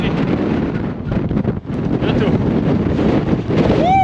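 Strong wind buffets a windy mountain top in a steady, loud roar against the microphone, with a brief lull midway and a short spoken word near the end.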